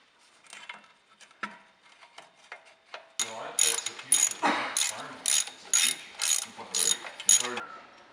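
A hand ratchet clicks as it tightens a 10mm bolt on a Jeep frame-rail bracket. A few faint, scattered clicks come first, then a run of loud, close, rhythmic ratcheting strokes.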